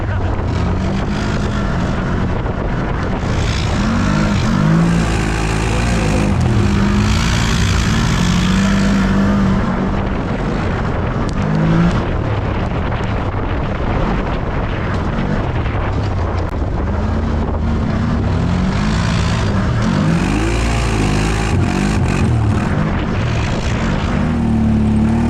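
A CFMOTO side-by-side UTV engine drones loud and close through a test ride, rising and falling with throttle and gear changes over rough ground, steady for the whole stretch.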